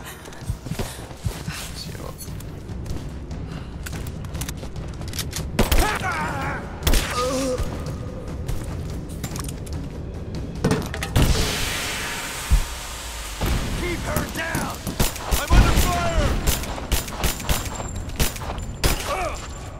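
Gunfire in Rise of the Tomb Raider, heard as scattered shots and bursts amid thuds, footsteps and mechanical clatter, under frequent shouting voices throughout.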